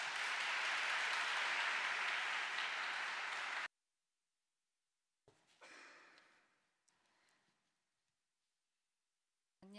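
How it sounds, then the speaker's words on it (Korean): Audience applause fills the nave of a cathedral during a youth Mass, a dense steady clatter of clapping that cuts off abruptly, followed by quiet with faint rustles and a couple of soft shuffling noises. "큰 박수로 모셔주셨으면 좋겠습니다"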